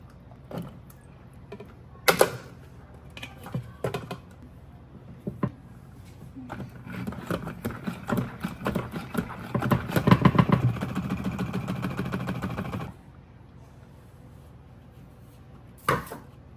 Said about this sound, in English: I get my salad dryer, then I dry it.